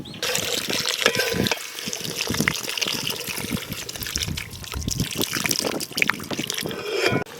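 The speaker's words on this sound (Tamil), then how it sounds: "ஒரு 1/4 லிட்டர் தண்ணி ஊற்றிக்கோங்க." Water trickles and splashes steadily into a cooking pot for several seconds, a close, continuous pouring sound with faint voices in the background.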